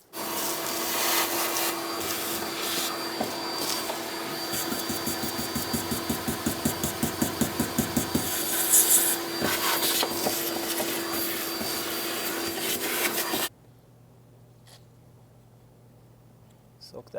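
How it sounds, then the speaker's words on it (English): A vacuum cleaner roars steadily while sucking up sand around the fuel pump connector area of a 2012-2017 Toyota Camry, with rhythmic scraping strokes partway through before it cuts off abruptly, leaving a quiet hum. "I'm going to grab a vacuum and try to vacuum all this up"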